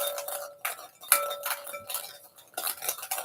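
Hollow plastic Easter eggs are shuffled together in cupped hands, giving light clattering knocks and clicks in short irregular bursts, close and fairly quiet with no talking.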